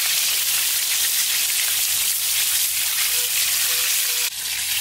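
Chicken drumsticks and wings deep frying in hot oil give a loud, steady, dense sizzle and crackle up close, continuous throughout with no talk.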